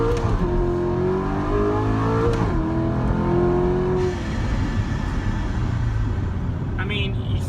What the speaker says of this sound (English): if I gun it right now, the car will pretty much dead hook.